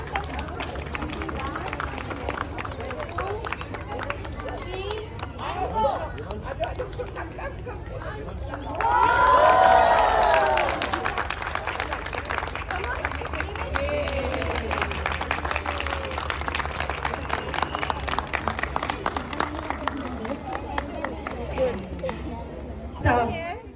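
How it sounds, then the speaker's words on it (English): Audience at a Republic Day event applauding, a sustained wash of clapping and crowd noise that swells suddenly partway through, with voices and chatter mixed in. "I want a huge round of applause from all the audience."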